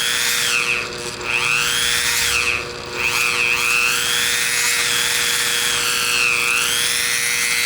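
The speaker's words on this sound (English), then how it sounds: "you're going to drill a little hole in the middle, not real deep" A small power drill whines steadily as it bores a shallow hole into a whittled wood block. The pitch wavers and dips a few times as the bit bites, loud and close, with no talk.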